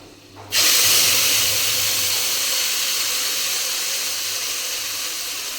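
Mustard and poppy seed paste hits hot oil already frying nigella seeds and green chillies, bursting into a sudden loud, close hiss that slowly fades over several seconds, with no voices.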